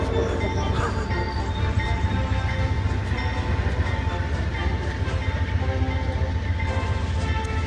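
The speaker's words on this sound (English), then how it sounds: "In a train." Riding in a train carriage produces a continuous rumble and rattle of rolling wheels on rails. The noise stays steady and close throughout, with faint tonal hum and no clear horn.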